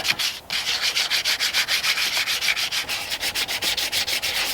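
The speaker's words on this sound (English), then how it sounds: "I'm going to take this piece of sandpaper, just kind of buff this out just a little bit" Sandpaper buffs old glue off an 80-year-old broken piece, a steady, close, rhythmic scratching in quick back-and-forth strokes with one brief pause near the start.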